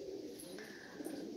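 Pigeons cooing softly, a short low burble from pet play pigeons kept in the Netherlands, faint and continuous with a brief higher chirp, no people speaking.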